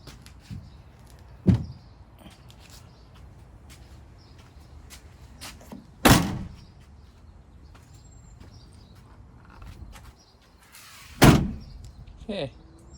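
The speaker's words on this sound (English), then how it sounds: "let's try closing the door." A campervan's sliding door, fitted with a custom bug screen, is rolled and slammed shut three times, each a loud close thud spaced several seconds apart, with quieter rattles and handling noises between.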